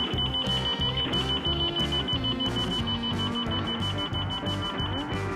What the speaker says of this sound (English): Ben manually triggered his security alarm, successfully scaring them off.